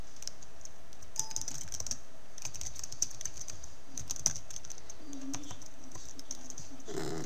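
Someone types on a computer keyboard, a quick run of light clicking keystrokes close up with short pauses and a few sharper taps, no voices.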